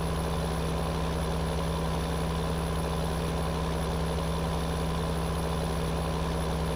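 Vehicle engine in Farming Simulator console version, a steady, droning low hum with a constant tonal whine, unchanging throughout and heard alone.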